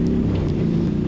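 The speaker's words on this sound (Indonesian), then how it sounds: "desiran ombak dari bibir pantai bercampur dengan suara knalpot saya" Motorcycle exhaust on a north Java coastal beach road, a low steady engine drone mixed with the wash of waves, close and continuous for about a second.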